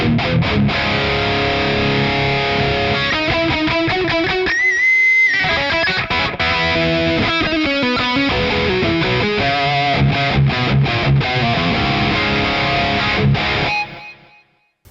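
Electric guitar through a dark Twin amp emulation with tape delay and low-mix plate reverb, playing a chordal riff with rhythmic stops and sustained notes before ringing out and fading at the end.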